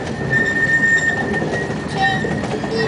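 A steam train running on rails in Berkeley, a loud continuous rolling rumble with faint wheel squeals and tones over it, close by.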